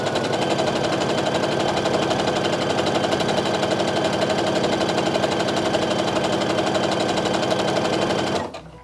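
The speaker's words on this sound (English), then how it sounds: "I'm going to go ahead and put my sewing machine to a 1/4 inch stitch. And I'm just going to sew down like I would any other strip piece." A sewing machine stitches quilt strips at a quarter-inch seam in one steady, rapid, even whir. It runs close and loud without a break for about eight seconds, then stops abruptly.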